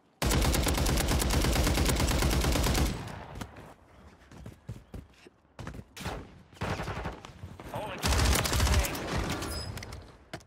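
Gunfire from HRM9 and MTZ-762 guns in Warzone: a sustained loud automatic burst, then scattered shots and clatter, then another heavy rapid burst near the end.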